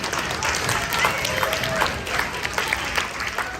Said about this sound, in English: Let's give a round of applause to our helpers here.